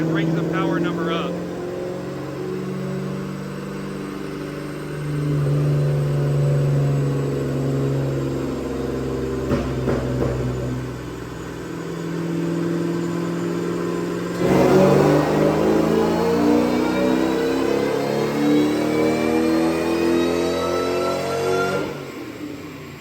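A supercharged Saleen car engine runs on a dyno, revving up in long rising pulls with a steady mid-pitched drone, then surging louder near the end before easing off; voices talk over the engine.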